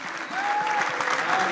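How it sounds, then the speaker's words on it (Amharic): A church congregation at a book launch service applauds and ululates together: dense, steady clapping runs throughout, with a high, sustained trilling ululation rising above it. "በጌታ በኢየሱስ ክርስቶስ ስም እልልታና ጨብጨባ ሃሌሉያ ለጌታ"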